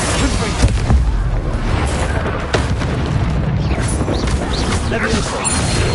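A Confringo fire spell blasts in Hogwarts Legacy amid a dense run of loud combat booms and crashes, with a sharp impact near the start and more hits scattered throughout the busy battle din.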